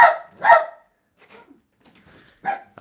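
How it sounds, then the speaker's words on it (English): A dog barks twice in quick succession, loud and close, then a short pause with faint background noise before another bark. "My dog is barking."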